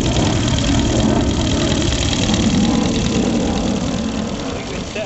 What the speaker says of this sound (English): the engine runs relatively quiet, and she definitely doesn't run very fast